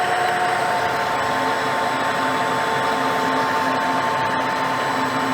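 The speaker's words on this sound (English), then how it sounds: "Lathe definitely loads up on that." A metal lathe taking a 25-thousandths-deep cut, the machine loading up in a steady, even drone with a faint high whine, close and continuous with no talk.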